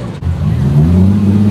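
Acura RSX with no exhaust system, its engine revving steadily with a loud, raw low drone that rises slightly in pitch, heard up close and continuous throughout.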